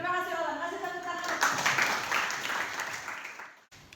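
A classroom of students applauding together during a lesson, a dense, close wash of clapping that swells and then cuts off quickly within a few seconds, with a voice briefly audible at the start.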